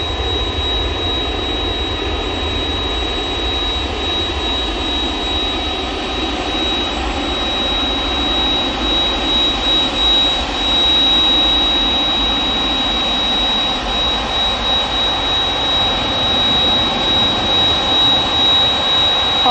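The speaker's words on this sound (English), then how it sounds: "So we've got the 767, which I'm sure you can hear." Boeing 767 jet engines at Manchester Airport roar steadily and loudly throughout, a continuous broadband rush with a thin high whine, no voices over it.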